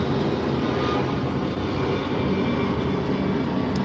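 A Delta airliner passes overhead, a steady loud jet rumble that holds evenly throughout.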